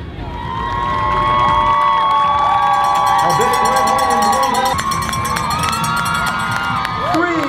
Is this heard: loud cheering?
yes